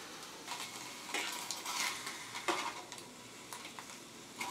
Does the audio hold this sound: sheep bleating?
no